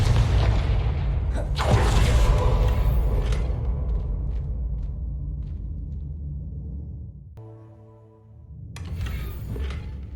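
The Confringo spell explodes in Hogwarts Legacy with a loud deep boom that rumbles and slowly fades over several seconds, followed by a short tonal game sound and then another swell of rumble.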